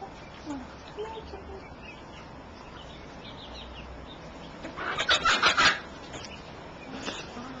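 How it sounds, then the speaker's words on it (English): A pet hen being trained to walk and jump over obstacles gives a short, close burst of clucking in the middle, set against quiet rustling and faint scattered sounds. "Come on, chicken."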